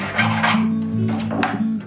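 A file crowns the frets on a 1970s Ibanez Concord acoustic guitar, a Hummingbird copy, producing close, steady rasping strokes with a continuous low hum beneath them.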